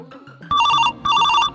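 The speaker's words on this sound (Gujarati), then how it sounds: "લે અભિનો ફોન આવ્યો ને ફટાફટ જાવ" A phone rings loudly and close by in a home, with two electronic ring bursts separated by a short gap and some faint sound just before.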